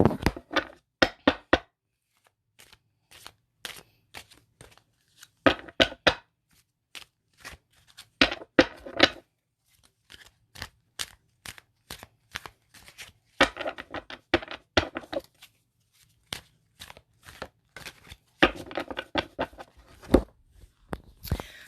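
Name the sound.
shuffling tarot cards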